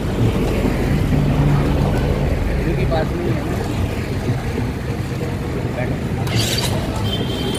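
An old motorbike on the move: a steady engine drone mixed with wind rush runs throughout, with voices talking over it.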